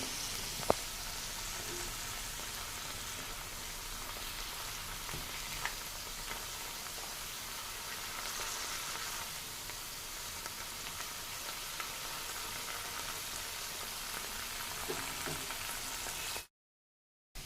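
Hand-cut spiral potatoes coated in spice paste fry in hot oil, a steady dense sizzle and crackle running throughout with small pops, close and even, then cutting off abruptly near the end.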